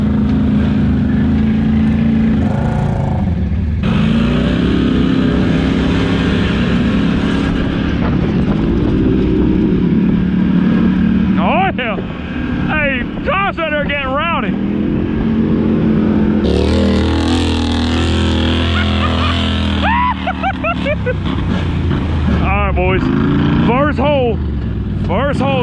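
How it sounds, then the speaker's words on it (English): A Can-Am off-road vehicle with power steering and a leaky belt box drives along. Its engine drones loudly and steadily and swells with revs throughout, while people talk and shout over it. "First hole driving a Can-Am."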